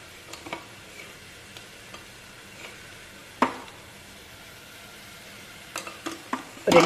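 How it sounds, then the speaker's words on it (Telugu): Ginger garlic paste being added to a pan and stirred, a soft low sizzle under scattered spoon scrapes and taps against the pan, with a louder clack toward the end, no one talking. "దీంట్లోనే అల్లం వెల్లుల్లి పేస్ట్ వేస్తున్నాను"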